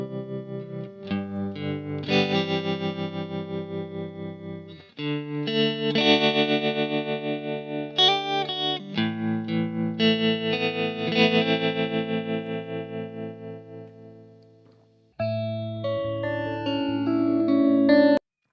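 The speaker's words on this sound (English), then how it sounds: "This is what the 12-stage phaser sounds like from the original on a guitar" An electric guitar played through an original 12-stage phaser effect: strummed chords and picked notes with a swirling, sweeping tone, ringing and decaying in phrases, then a sustained chord at the end, with no talk.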